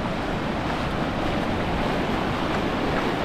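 Ocean waves break steadily at a Moroccan surf spot, a dense, continuous roar of surf and wash with wind noise on the microphone and no speech.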